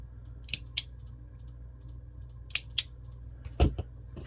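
Scissors snipping paper while a black-and-white journal is being made, a few quiet crisp cuts scattered over a low steady hum with no talking.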